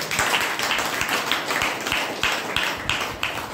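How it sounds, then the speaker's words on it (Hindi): An audience at a Hindi health talk claps in a steady rhythm, with sharp, evenly spaced beats that sound moderately close and carry on through the whole stretch with no speech over them. "ताली ताली ताली"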